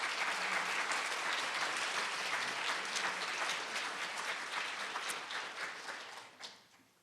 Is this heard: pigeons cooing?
no